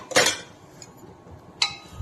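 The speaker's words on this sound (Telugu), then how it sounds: "ఫస్ట్ అయితే ఇది మూత తీసేద్దాము." A metal lid lifted off a cooking pot of bottle gourd and onion curry gives a sharp clanking clink, then a second lighter clink about a second and a half later, close and alone.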